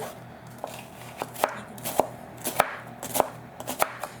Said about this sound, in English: So I'm going to slice up this quarter of a red onion.